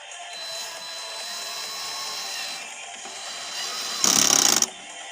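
A TC-CD 18/35 cordless drill driver, set on its clutch, drives a screw in one short, loud whirring burst near the end, after several seconds of quiet room noise.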